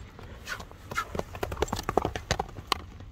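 Hooves of a gray horse at an ulak event striking the ground in a quick, uneven clip-clop, close and fairly loud, with a few louder knocks toward the end.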